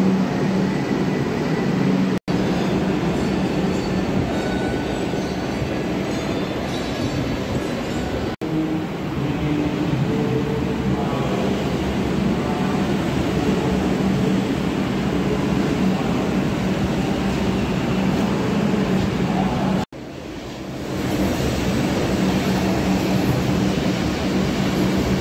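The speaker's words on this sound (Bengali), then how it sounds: "দেখতে দেখতে আমাদের এসপ্ল্যানেডে যাওয়ার ট্রেন এসে গেল, মানে ব্লু লাইনের ট্রেন।" A Kolkata Metro Blue Line train pulls into Tollygunge station, a loud sustained rumble of wheels and carriages that rolls on for about twenty-five seconds with a few sharp breaks, close by and without talk.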